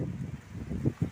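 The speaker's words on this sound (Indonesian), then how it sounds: "Ini angin kencang, obrak mabrik" Strong gusting wind buffets a microphone outdoors by a house in a village neighbourhood, a low rumbling roar that swells and dips, with two heavier blasts near the end and no speech.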